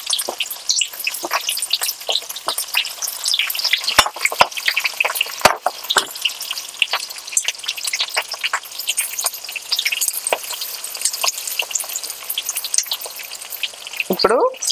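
Onions sizzle loudly in hot oil with popping seasoning seeds for a salted fish tomato curry, a dense crackling fry that runs throughout with a few sharp pops and clinks.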